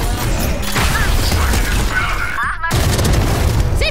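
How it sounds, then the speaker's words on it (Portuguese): A grenade blast in a Portuguese-language tactical shooter match, a booming burst with mechanical clatter amid busy game noise, followed by a sharp brief dropout before the action resumes. "Granada!"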